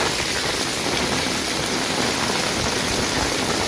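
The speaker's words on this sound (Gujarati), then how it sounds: "એટલો બધો પવન ચાલુ છે અત્યારે" Strong wind and heavy rain sweep through Vallabhipur during a mini cyclone storm, a dense, steady roar of downpour and gusts lasting throughout, loud and close with no pauses.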